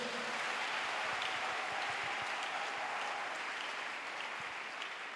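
A church congregation applauds and acclaims, a steady wash of clapping and crowd noise that holds at an even loudness throughout, without any clear speech.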